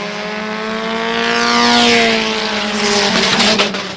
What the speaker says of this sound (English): Heard a little rev chip action there.